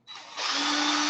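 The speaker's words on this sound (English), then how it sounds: "It doesn't matter what direction your drill's going." A power drill spins Kanthal coil wire, starting with a sharp whir that quickly rises into a loud, steady high-pitched whine heard up close.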